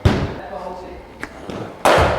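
A cricket bat strikes the ball during net practice with sharp, loud cracks, one right at the start and another near the end, with a smaller tap between and a voice in the background.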